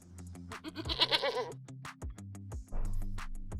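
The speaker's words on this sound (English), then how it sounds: "And let's listen to a goat." A farm goat bleats several times in quick, wavering cries, close and clear, with a short pause between calls.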